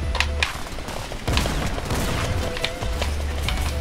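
Rapid bursts of gunfire from the video game Fortnite, in a solo Chapter 2 Winterfest match, with several sharp shots and booms in quick succession, loud and close, with no talk.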